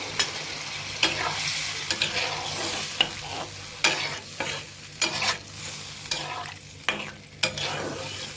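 Fish curry with pointed gourd sizzles in a pan after water is poured in, while a spatula scrapes and stirs in sharp strokes about once a second over a constant close frying hiss.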